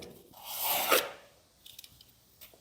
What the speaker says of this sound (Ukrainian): Беремо нове канцелярське лезо і будемо пробувати різати